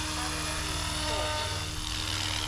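A helicopter flies close by with a steady rotor chop and engine drone, loud and continuous on its own.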